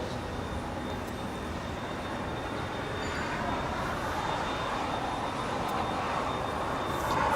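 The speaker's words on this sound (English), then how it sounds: "Flight 3774 coming in from Spokane, Washington. It's an Embraer ERJ175LL." A Delta Connection Embraer ERJ175 jet landing at LAX after a flight from Spokane, heard as a steady, broad engine roar that holds level and swells slightly toward the end, with a faint high whine running through it.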